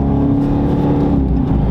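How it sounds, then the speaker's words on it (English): Dodge V8 car with active exhaust, a 2017 Daytona R/T, accelerating hard; a loud, steady, deep engine roar with a rising harmonic drone that holds throughout, close and alone with no talk. "You can hear the active exhaust system working right there whenever he gets on it."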